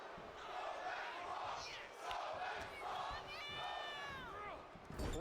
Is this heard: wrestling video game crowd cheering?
yes